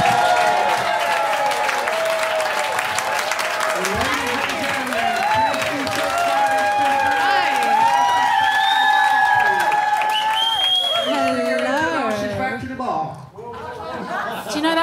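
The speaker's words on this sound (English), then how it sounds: "I want a huge round of applause for my friend Cressida Wetton!" A stand-up comedy audience breaks into loud, sustained applause mixed with cheering and whoops. The noise holds for several seconds, with chatter and laughter running under it, then begins to thin out near the end.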